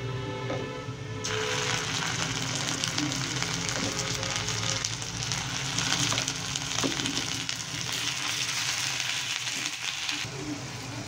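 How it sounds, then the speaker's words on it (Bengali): Onion and spices fry in hot oil with a continuous loud sizzle, growing brighter after the first second and holding steady with faint stirring scrapes before easing near the end. "তেলের উপরে পেঁয়াজটা দিয়ে"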